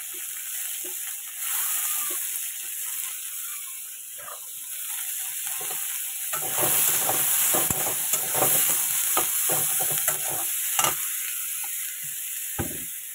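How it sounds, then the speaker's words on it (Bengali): Onion, green chili and whole garlic cloves fry in hot oil with a soft hiss. Stirring grows busier and louder partway through, with clattering scrapes over the sizzle. "এবার দিয়ে দেবো পেঁয়াজ, লঙ্কা, একটু রসুন গোটা গোটা। এটাকে ভালো করে ভাজবো লাল লাল করে।"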